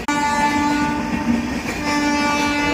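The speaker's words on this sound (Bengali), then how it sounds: "ট্রেন যাচ্ছে" A train rumbles past nearby at Panskura station during flooding, with a sustained horn blaring over the rolling wheels, loud and continuous.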